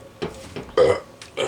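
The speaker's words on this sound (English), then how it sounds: "I know I've been burping up a storm in this video" Close, loud burps after a swig of black tea: several short belches, one long throaty one in the middle and a final shorter one.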